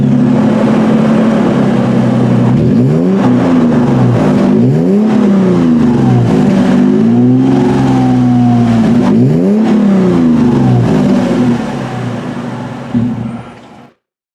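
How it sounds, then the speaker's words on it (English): A 2020 Toyota 4Runner TRD with its high-performance TRD exhaust revs loudly and repeatedly, the engine note swooping up and dropping back in several rising-and-falling sweeps close by, then fading out at the end. "A high-performance TRD exhaust."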